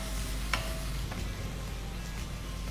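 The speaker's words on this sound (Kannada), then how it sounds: "ಇದು ಸ್ವಲ್ಪ ಫ್ರೈ ಆಗಲಿ, ಆ ನಂತರ ನಾವು ಟೊಮೆಟೊ ಹಾಕುವ." Onions fry with salt in a pan for prawn masala, giving a soft, steady sizzle with a couple of brief scraping stirs and no talking.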